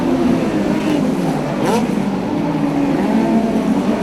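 Midget speedcars racing at Archerfield Speedway make a loud, sustained engine drone, with one car's pitch sweeping past as the pack powers through a turn, while a commentator talks over the roar.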